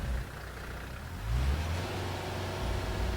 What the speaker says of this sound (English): reconnected the loader circuit, and started the engine